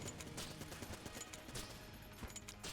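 Rapid bursts of weapon fire from the Enter the Gungeon video game, a string of quick shots against a large enemy at a constant moderate level, with no talking.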